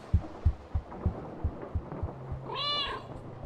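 A single rising meow from a cat in the Rosemary's Fate adventure game, near and clear, following a run of evenly spaced soft low thumps and a faint steady hum.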